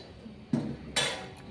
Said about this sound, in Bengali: ঢাকাটা খুলে দিলাম